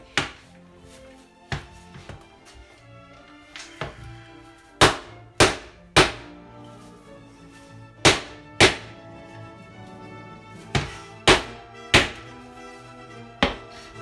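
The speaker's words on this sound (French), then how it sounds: "vous prenez votre tablette de chocolat et on va la concasser" Sharp, heavy thuds strike at irregular intervals as a chocolate bar is smashed against a surface, with quiet pauses between blows.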